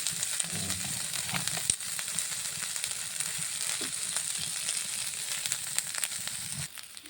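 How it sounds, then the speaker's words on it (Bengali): Dried puti fish fry in hot oil in a pan, giving a steady, close hiss of sizzling with small crackles and pops that runs through the whole stretch at an even level. "একটু মাছ মোটামুটি করে ভেজে নেব"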